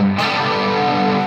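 A BOSS CE-2W chorus pedal on electric guitar, depth up and rate down, making a sustained note swirl with a flanger-like, slightly distorted quality. The sound is loud and heard alone for just over a second.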